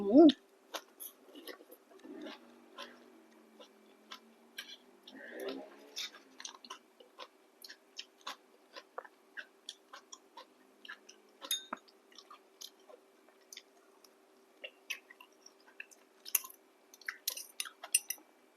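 Someone chews blanched vegetables (blanched Indian pennywort) dipped in a chili paste made with grilled fish and giant water bug, giving close, soft, repeated crunchy and wet bites over a faint steady hum.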